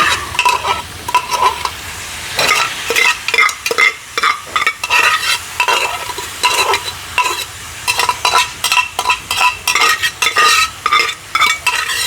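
Vegetables being stirred and sautéed in a pan just as shredded cabbage goes in, with repeated scraping strokes over a steady frying sizzle, close and loud, no talking.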